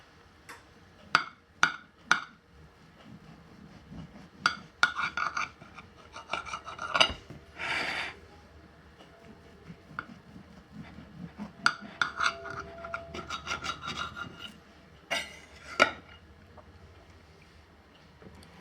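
A cake knife sawing through a homemade angel food cake, giving rasping strokes and scrapes in irregular bursts with occasional clinks against the plate, fairly close and with no talking.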